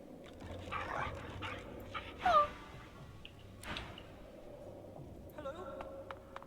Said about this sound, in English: Argos is a good dog.